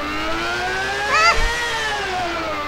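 A car engine in the video game Arma 2, a steady droning hum that rises slightly in pitch as the car accelerates, with a brief burst of higher noise near the middle and no talking.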